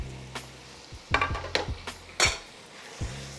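A spoon stirs corn into a buttery vegetable soup in a pot, with a few sharp metallic clinks and scrapes against the pot over a low steady kitchen hum.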